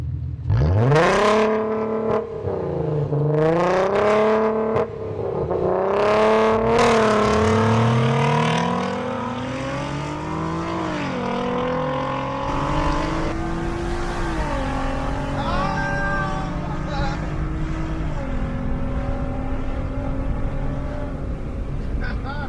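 Two cars, a VW Jetta VR6 and a VW R32, launch side by side in a drag race, their engines revving hard and climbing through gear changes in loud, continuous roaring sweeps that fade slightly as they pull away, with people talking over them.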